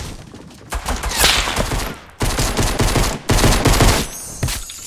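Video game pistol gunfire cracks out in several loud volleys of rapid shots, with short pauses between the bursts and a bright ringing layer near the end.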